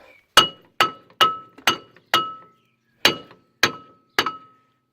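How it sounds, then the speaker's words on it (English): A hammer tapping the brake drum on a Ford Street Ka: eight sharp metallic taps with a ringing clink, close and loud, in two quick bursts with a short pause between, no talk. "give it a few taps and it should come off"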